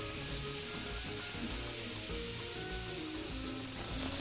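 Lamb in a lemon juice and garlic marinade sizzling steadily in a pan over moderate gas heat, a loud, dense, continuous frying hiss with no talking.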